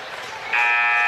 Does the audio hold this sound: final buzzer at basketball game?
yes